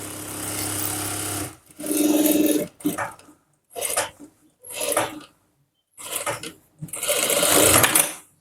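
A sewing machine stitching a men's shirt collar runs in loud, steady whirring bursts, starting and stopping several times with short silent gaps between runs.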